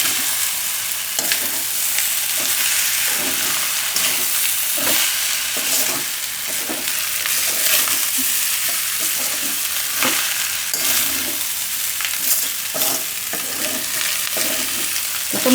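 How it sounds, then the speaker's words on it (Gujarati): Leftover rice and potatoes are stirred in a frying pan: a steady loud sizzle runs throughout while a spatula scrapes and turns in a fairly regular rhythm, close up, with no voices. "આ રીતે હળવા હાથે મિક્સ કરી લેવાનું કે ભાત ભાંગે ને એવી રીતે એમ."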